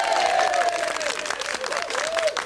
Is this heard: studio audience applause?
yes